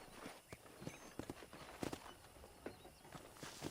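Horse hooves clip-clop in an uneven walking rhythm in the video game Red Dead Redemption, faint and close, over a low background.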